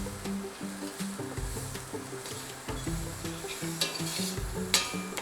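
Curry paste and onion sizzling together in a pan for a roasted cauliflower curry, a close, continuous crackle broken by rhythmic stirring scrapes and clinks, with no voices.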